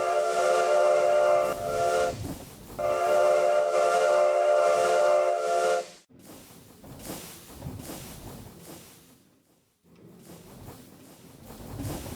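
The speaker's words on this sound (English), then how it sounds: "I don't know why the whistle wasn't working before, but now it's working fine." Steam train whistle from Minecraft StoneBlock 3, two long loud hissing blasts, each about two to three seconds with a brief break between, followed by quieter rumbling train noise with breathy hiss, no talk.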